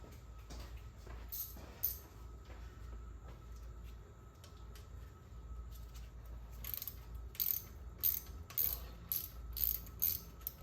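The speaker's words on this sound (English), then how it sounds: "ratchet." A ratchet wrench clicks in short, quiet bursts while parts come off a Holley 4150 carburetor, the clicks sparse at first, then quicker toward the end over a low hum.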